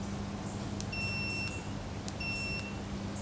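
Sharp clicks from a cover-off switch on a curb-found propane heater with a pilot light fault, sounding in pairs as it operates, with two short steady electronic beeps between them over a low hum.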